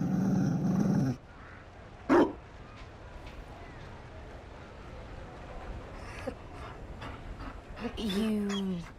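A Mabari war dog in the video game Dragon Age: Inquisition lets out a single sharp bark early on amid a hissy game soundscape, followed by scattered brief vocal sounds and clatter toward the end.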